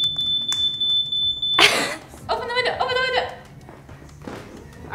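A high, steady electronic smoke detector alarm tone, set off by candle-making heat, sounds for over a second before cutting off, followed by a burst of noise and people laughing.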